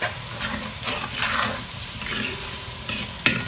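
Masala spice powder frying and being stirred in a hot pan with salt and white pepper, a steady close sizzle with scraping stir strokes and a sharp clack near the end, no talking.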